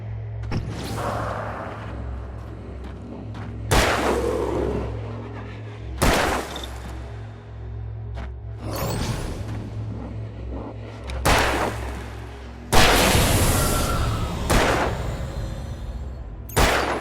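Gunshots from Alan Wake Remastered ring out one at a time at irregular intervals, around seven loud cracks over a low steady drone, with one heavier burst near the end.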